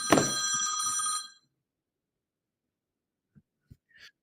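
On an outgoing call, a telephone ring tone plays once, loud and close for about a second, then cuts off into silence broken by a few faint clicks.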